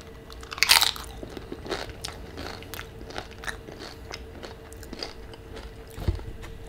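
Close mouth crunching of tortilla chips with creamy guacamole, a loud bite followed by softer repeated chewing crunches.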